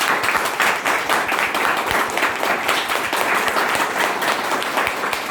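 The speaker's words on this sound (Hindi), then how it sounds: "एक बार जोरदार तालियां अपने आप के लिए" A seminar audience breaks into loud, sustained applause, dense overlapping claps that hold steady from start to finish, close and full, with no talking.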